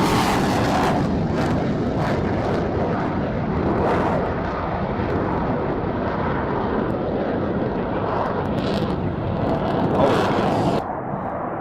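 An F-16 fighter jet roars through an air display, a loud, broad, sustained rumble that swells and shifts for over ten seconds, heard from the crowd line with no talking.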